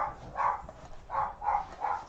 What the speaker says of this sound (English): You can probably hear my dog.